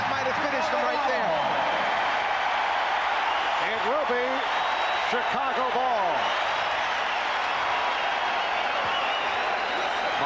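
A basketball arena crowd at a 1993 Eastern Conference Finals Game 4 between the Chicago Bulls and New York Knicks roars steadily throughout, a loud, sustained wash of cheering under a commentator's voice and squeaking sneakers.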